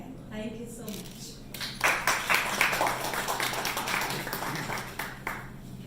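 Guests at a restaurant inauguration give a modest round of clapping that swells after a quiet start and then thins out, heard at moderate distance with some voices mixed in.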